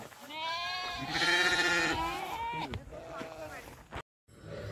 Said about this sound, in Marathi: मेंढ्या येत आहे समोरून, मेंढ्या येते समोरून बघा.